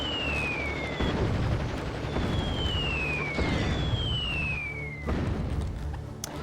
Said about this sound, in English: just gotta dodge the rockets and the fire and everything else that this boss throws at you